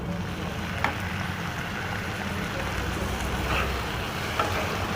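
Tomatoes and onions frying together in a pan for a soya chunk and spinach dish, a steady broadband sizzle with faint clinks, continuous and close.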